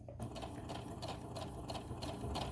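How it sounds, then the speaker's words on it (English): Sewing machine stitching a straight seam on a tote bag, giving a continuous fast, even mechanical whir with a faint rhythmic ticking, close and steady throughout. "and I'm continuing to stitch straight."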